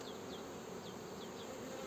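Steady, dense buzzing of many honey bees in a hive, a continuous low hum with faint higher whines passing over it, quiet and unbroken.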